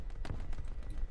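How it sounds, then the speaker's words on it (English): Fireworks burst in a Roblox Bedwars live event, a quick volley of sharp cracks and pops in uneven rhythm over a game background bed, fairly loud and close. "Fireworks are going off."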